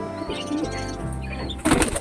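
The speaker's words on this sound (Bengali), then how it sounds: "এখানে কিছু পায়রা বিক্রি আছে। এগুলো হচ্ছে মুম্বাই পর্বন।" Pigeons of the Mumbai breed kept for sale flap their wings in a short, sharp flurry near the end, after a stretch of quieter background sound.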